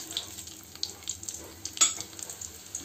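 Cumin seeds crackle and sizzle in hot oil for dal tempering, faint irregular pops with a brief louder spatter and occasional stirring, close by with no speech.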